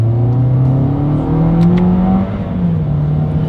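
A 2021 Toyota Corolla accelerating hard in paddle-shift manual mode, engine note climbing steadily in pitch, dipping briefly at a shift, then rising again, loud and close from inside the cabin.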